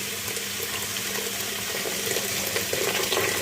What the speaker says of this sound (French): je vais mettre de l'eau bouillante par-dessus